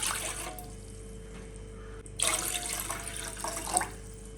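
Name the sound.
tender coconut water poured into a saucepan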